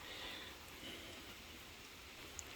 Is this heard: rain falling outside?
yes